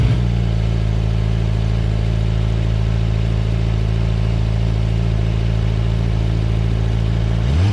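A 2023 KOVE 450RR motorcycle engine holds at a steady, loud rev under launch control, a constant droning buzz throughout that cuts off abruptly at the very end.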